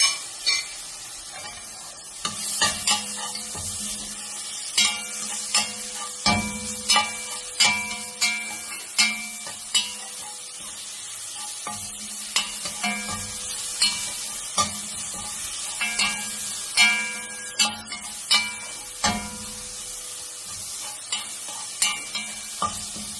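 Onion with crushed ginger and garlic frying in a pan for crab rice, a steady sizzle with repeated sharp clinks and scrapes of a spoon stirring at a regular pace, close and fairly loud throughout.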